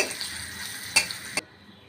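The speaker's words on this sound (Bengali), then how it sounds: "এখন আমি পেঁয়াজটা বেস্ত করে নেব" Onions stir-frying in oil in a kadai, a steady close sizzle with a couple of sharp spatula scrapes against the pan, then cutting off abruptly.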